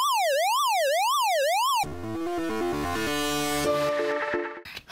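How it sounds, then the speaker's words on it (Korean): A synthesized ambulance-style siren built in Bitwig's Grid modular synth, a square-wave LFO switching the pitch, preceded by a smooth rising-and-falling tone sweep, then a steady two-tone wail with dense harmonics, loud and alone. "모듈레이션 노브를 올리면 구급차 느낌에 가까워지는 것을 들을 수"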